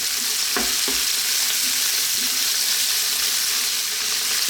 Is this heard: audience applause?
no